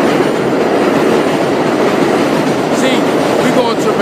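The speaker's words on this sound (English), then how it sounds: "Gotta wait for the train to pass by." A train passes nearby with a loud, steady rumble and rolling wheel noise, brief squeals and clicks rising near the end, drowning out the surroundings.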